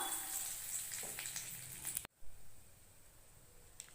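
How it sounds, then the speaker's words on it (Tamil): Mustard seeds, chana dal and curry leaves drop into hot oil for lemon rice, giving a loud, steady frying sizzle that cuts off abruptly about halfway, then a quieter, fainter crackle continues alone. "இப்போ எண்ணெய் சூடாகிடுச்சு இப்போது நம்ம கடுகும் கடலைப்பருப்பும் ஆட் பண்ணிக்கலாம் கருவேப்பிலை ஆட் பண்ணிக்கலாம்"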